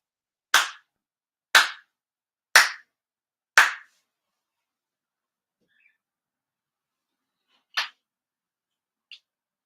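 Four sincere ritual hand claps at a Shinto prayer service ring out sharp and evenly spaced, then after a pause come one more clap and a fainter one, crisp and close in an otherwise silent room.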